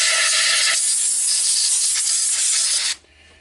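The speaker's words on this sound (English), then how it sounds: "I've got a little compressor for my airbrush, so I'll blow it through now and again." A small airbrush compressor sends a loud, close hissing blast of air through a wood lathe chuck, one sustained burst that flutters slightly before cutting off sharply near the end, leaving a quiet background.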